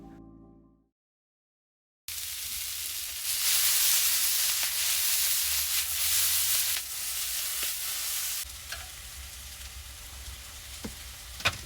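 Tofu and vegetables for street tacos sizzle steadily in a pan inside a van parked in a Target lot, a loud continuous frying hiss that swells and eases, with occasional clinks and stirs.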